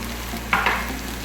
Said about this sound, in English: So next thing to do is to tip the bok choy in